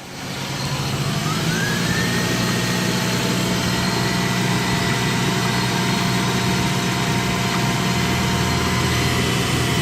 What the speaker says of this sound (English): Just gonna let it idle for a little bit.